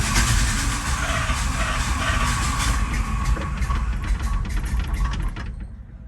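A Chevy C20 truck engine idling after being pumped, a steady close rumble that runs on evenly before fading out near the end, with no voices.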